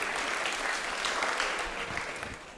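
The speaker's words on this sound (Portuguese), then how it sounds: "Palmas pro Ragnar, gente." A church audience gives a short burst of steady clapping, fairly dense and even, that tapers slightly toward the end.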